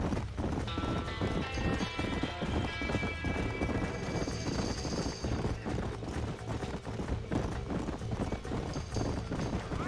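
Hooves of horses galloping in a burning barn in the Red Dead Redemption video game, a loud, rapid clip-clop drumming with whinnies and a roaring, rumbling fire underneath, continuous throughout.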